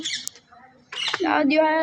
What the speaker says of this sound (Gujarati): પોપટ તો અમારા અહીંયા બહુ આવી જાય છે